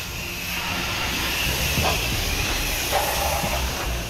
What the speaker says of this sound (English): We're gonna come back here and start rinsing everything off